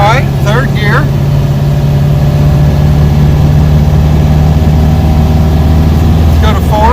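Car with a 002 transmission cruising in third gear through a neighborhood, a steady low engine drone held near and fairly loud, with brief speech at the start and end.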